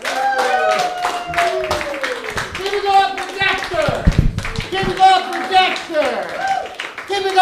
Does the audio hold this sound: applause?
yes